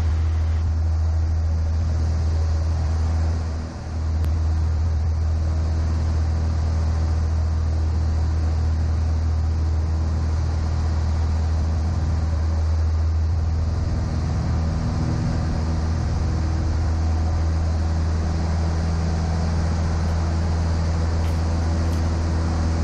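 Inside a Cessna 152 in flight, the engine drones at reduced power as a steady, loud, low hum with wind rush, continuous throughout and with no talking.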